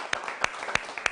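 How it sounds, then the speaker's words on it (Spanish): A small audience applauds the guests at an interview event. A few sharp handclaps land in a steady rhythm, about one every third of a second, close and clear over faint background noise. "Un aplauso para Alicia y para Ben."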